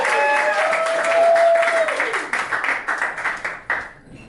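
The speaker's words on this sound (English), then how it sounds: "GaBe, MoRaLeS, everyone, keep it going for GaBe." A comedy club crowd claps and applauds as comedian Gabe Morales comes on stage, loud, dense clapping that thins into scattered claps and fades out near the end, with a sustained tone under the first half.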